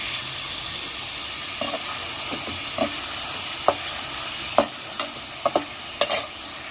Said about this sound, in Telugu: ఇప్పుడు ఆయిల్ ఇవి కొంచెం లైట్గా డీప్ ఫ్రై చేసుకుందాం